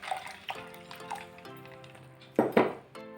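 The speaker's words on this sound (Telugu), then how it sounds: "ఇప్పుడు ఒక గ్లాస్ వాటర్ పోసుకోండి." Water is poured into a glass holding ice and lemon juice, a quiet close trickle punctuated by faint glassy clinks and a slightly louder splash near the end.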